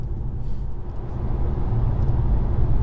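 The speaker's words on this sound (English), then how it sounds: "I'm surprised by the amount of wind noise" A steady, fairly loud low rumble of wind and road noise fills the cabin of a moving BMW iX1. It is even and unbroken, with no speech heard.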